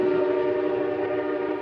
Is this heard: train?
yes